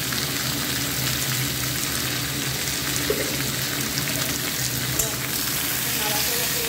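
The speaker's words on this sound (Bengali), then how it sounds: "নাড়াচাড়া করে দিই।" Prawn curry spices with turmeric fry in a pan, a loud, steady hiss and crackle that fills the whole stretch, with a few faint knocks from stirring under the sizzle.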